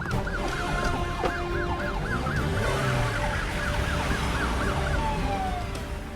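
A wailing emergency siren sweeps up and down repeatedly over steady traffic noise, fairly close and loud throughout.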